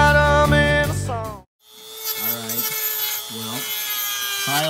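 A spade bit drills through a wooden cutting board being made into an electric ukulele body, giving a steady, close grinding rasp with rhythmic scraping strokes; a tonal music-like passage plays first, and voices sound at times.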